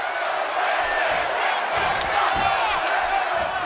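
A wrestling arena crowd in the WWE 2K17 video game roars and cheers continuously throughout, a dense, loud sustained wall of voices with scattered whoops and shouts.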